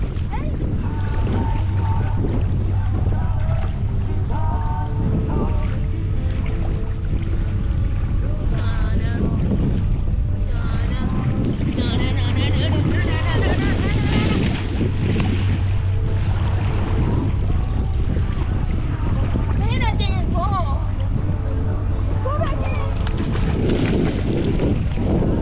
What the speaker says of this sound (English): the wind's getting really bad